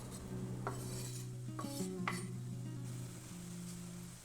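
Tomato and other vegetables sizzle steadily in a frying pan while a utensil scrapes and clinks against the pan a few times; no voices.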